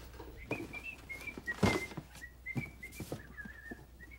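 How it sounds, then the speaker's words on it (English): A person whistles a wavering, quiet tune with short breaks, over soft knocks and rustling, with one louder thump in the middle. "You know the great thing about whistling?"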